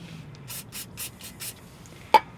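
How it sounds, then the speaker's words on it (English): A series of five short hissing bursts of aerosol brake parts cleaner on a 2009-18 Dodge Ram 1500 front brake, evenly spaced and fairly close, followed by a sharp click near the end. "I just spray a little bit of brake parts cleaner to clean the immediate surface"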